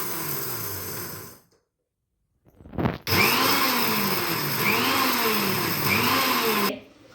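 A mixer grinder coarsely grinding chilies runs in loud, whirring bursts, stopping briefly for a couple of seconds, then restarting with a steady cyclic churning drone before cutting off.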